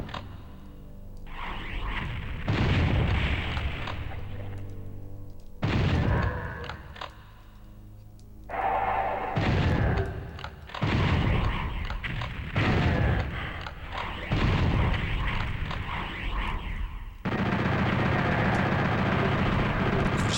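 Shotgun blasts in DOOM on the PlayStation, a run of loud booming shots with heavy low-end, separated by short gaps, amid ongoing game noise and no talking.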